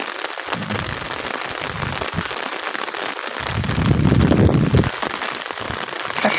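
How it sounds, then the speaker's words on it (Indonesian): Heavy rain pours steadily over a Sundanese village in West Java on a cold morning, a dense close hiss that swells louder midway as the wind strengthens, with no voices. "Hujannya makin deras dan anginnya makin kencang nih kayaknya nih."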